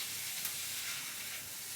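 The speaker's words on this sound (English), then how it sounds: "put that straight into the pan with the carrots and onions" Carrots and onions sizzling in a pan while being stirred, a steady close frying hiss with a faint scrape, no voices.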